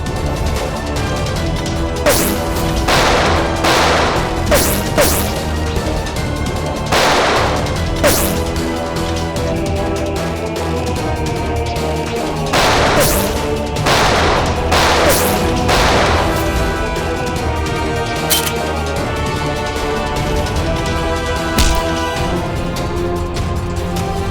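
Gunfire during a shootout in a Hindi TV crime drama, heard as scattered loud broadband cracks and bursts over a continuous dramatic music score, with clusters of shots around the middle of the scene and no talking.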